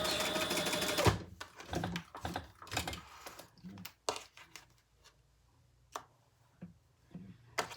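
Sewing machine basting the side seams of a black and leopard-print fabric crossbody bag, heard as short bursts of stitching separated by pauses, with a person talking between the runs.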